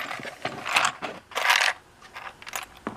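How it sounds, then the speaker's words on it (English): A plastic bin pops out of a Stanley 16-inch toolbox with a few quick plastic clicks and scraping snaps, close up and fairly quiet. "This will pop right out."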